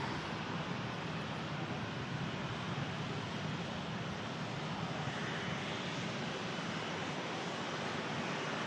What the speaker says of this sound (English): bit of prop action. We have the Emerald Air ATR 72.